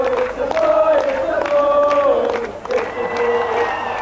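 A large crowd outside the palace on a June evening cheers and shouts loudly, with rising whistles and yells surging and falling over a dense roar of voices.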